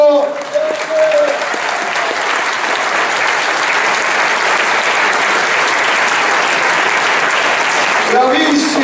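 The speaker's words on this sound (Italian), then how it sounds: "Un applauso!" Sustained audience applause fills the whole stretch at an Italian talk event, a dense, loud wash of many hands clapping close and steady, with a brief voice at the start and end.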